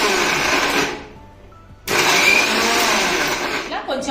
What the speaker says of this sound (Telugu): ముక్కలు ఇలా మిక్సీ జార్ తీసుకొని అందులో వేసుకొని మిక్సీ పట్టుకుందామండి కొంచెం బరకగా పట్టుకోవాలి ఇట్లా ఆపుతూ వేస్తూ